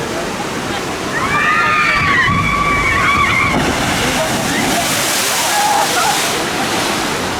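Water sloshes and splashes steadily at Tukey Splash, a theme park water ride at PortAventura, with a rushing wash throughout and voices and screams mixed in.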